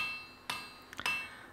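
Hand hammer striking an iron bar on the anvil, a few sharp metallic blows: one clear ring, then a quick double tap followed by another ringing strike, fairly quiet with no talk.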